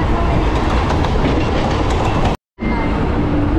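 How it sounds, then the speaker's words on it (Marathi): A Mumbai local train pulls into Churchgate station with a loud, close, continuous rumble and rattling wheels, cut off briefly by a short dropout before the clatter resumes. "आत्ता ट्रेन खाली आली पूर्ण"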